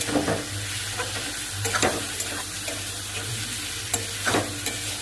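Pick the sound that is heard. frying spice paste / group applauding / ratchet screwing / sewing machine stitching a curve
frying spice paste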